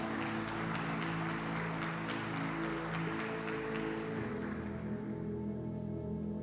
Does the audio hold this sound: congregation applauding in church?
yes